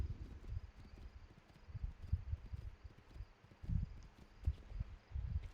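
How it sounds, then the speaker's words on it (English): Horse hooves clip-clop in an uneven walking rhythm during riding in the video game Castle Crashers, fairly faint and close, with no talk over them. "All I did was ride a horse."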